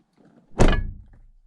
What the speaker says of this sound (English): you can actually hear the sunroof clonk when you close the car door